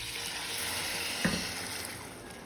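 Steady hiss of sausages frying in butter in a pan, with a brief louder sizzle burst as tomato sauce is added, continuous and close.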